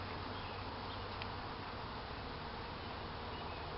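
A honeybee swarm drones around a backyard hive box with brood wax frames, a dense, continuous buzz of many bees, steady and close, with no talking.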